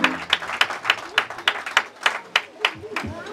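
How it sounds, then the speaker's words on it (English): A wedding congregation claps together in church, a brisk rhythmic applause of sharp, even beats under a faint murmur. "Shall we give a better clap offering to the Lord?"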